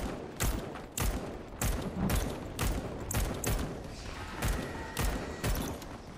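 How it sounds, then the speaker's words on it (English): Suppressive gunfire in a first-person shooter, rounds hammering out in repeated rapid bursts separated by short pauses, loud and close throughout, alone without any talk. "I'm laying down suppressive fire towards our downed people"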